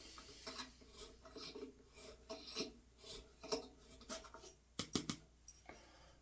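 A hand reamer enlarges a tuner hole in a ukulele headstock, producing quiet, close rasping scrapes in an irregular rhythm of short turns, with a few sharper clicks near the end and no talk.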